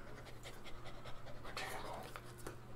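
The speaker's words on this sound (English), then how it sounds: "He's still a small puppy." Quick rhythmic panting from a small puppy close by, soft repeated breaths running steadily under people talking.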